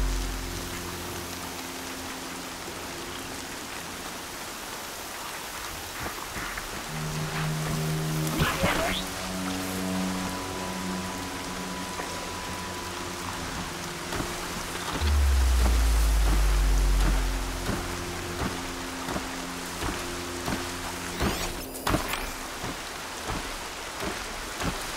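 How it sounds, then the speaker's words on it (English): Steady rain falls in Horizon Zero Dawn, a constant hiss of drops on surfaces with a low rumble of thunder midway and scattered game tones and effects layered over it. "Here comes the rain."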